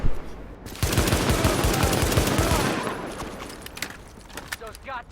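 Rapid bursts of automatic gunfire in The Division, a loud rattling fusillade for about two seconds that fades into scattered shots and faint voices.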